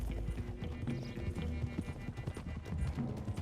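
Horses' hooves clip-clop steadily in Red Dead Redemption 2 as a group of riders heads for the hills, a dense, continuous rhythm of hoofbeats up close, with no talk over it.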